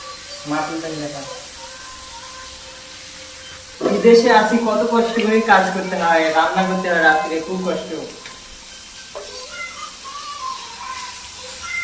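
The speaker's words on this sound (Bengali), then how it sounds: "আজকে মাছ ভাজি হবে" Fish sizzles and hisses in a frying pan in a home kitchen, with a soft, steady crackle under loud, close conversational speech.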